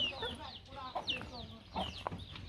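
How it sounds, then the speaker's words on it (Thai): Farmyard chickens cluck in a series of short, rising calls scattered across the moment, fairly close, over a low background murmur. "ไปอยู่ไก่มันตอดหัวเลย"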